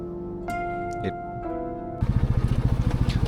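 A motorbike engine on a mountain road to Sikkim near Darjeeling chugs in a steady, rapid pulsing rhythm close by, starting after a stretch of tonal hum and a few sharp clicks.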